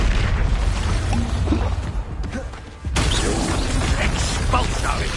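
A blasting spell explodes in a video game, producing loud, dense crashing and rumbling debris noise that fills the whole stretch, briefly thins to a lull near the middle, then bursts back in at full strength.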